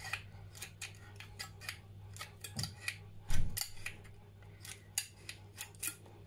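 Scissors snip a fringe into thin tin-can metal with a rapid series of sharp, close metallic cuts, steady in rhythm over a low background hum.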